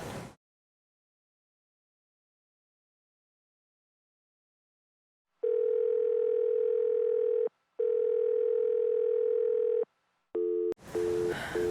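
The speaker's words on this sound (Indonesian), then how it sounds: "Gimana sih Papa? Kok nggak diangkat?" An outgoing phone call rings and nobody picks up. After a silent stretch, two long tonal ringback bursts sound in a regular pattern, followed by a short tone. A voice begins at the very end.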